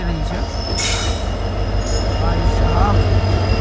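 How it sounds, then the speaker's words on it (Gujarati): A train arrives behind a WDG4 diesel locomotive, its rumbling, clattering wagons and brief metallic squeals passing close and loud, with a voice heard briefly under the noise. "WDG4 સાથે કોઈ તો ટ્રેન અરાઈવ લઈ રહી છે"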